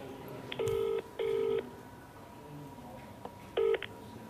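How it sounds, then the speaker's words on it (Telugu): Telephone keypad tones as a call is dialed, three distinct steady beeps, two close together and one after a pause, over a faint background hum. "అయితే చరణ్ గారిని ఒక్కసారి కాల్ చేసి ఆయన కనుక్కుందాం"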